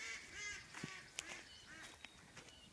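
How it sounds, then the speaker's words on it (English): Mallard ducks calling on a farm in April, a series of faint, scattered honking quacks at a distance over quiet outdoor ambience. "That's the mallard ducks."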